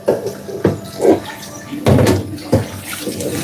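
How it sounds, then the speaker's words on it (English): A pot is washed under running water in a working kitchen, with bursts of splashing and rinsing broken by clunks of the pot against the sink, close and fairly loud. "I'm gonna just wash my pot real quick."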